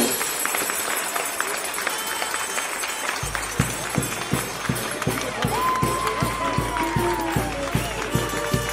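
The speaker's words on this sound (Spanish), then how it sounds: "Fuertes los aplausos, señoras y señores" Audience applause at an anniversary celebration of a provincial association in Peru, a crowd clapping steadily that settles into a rhythmic beat of regular claps, with a thin melodic tone drifting over the noise.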